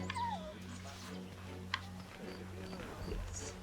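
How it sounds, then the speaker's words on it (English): A dog in the video game Assassin's Creed: Liberation HD whimpers and yips faintly in short high whines, quiet under a low game soundtrack hum. "at least you can pet the dogs"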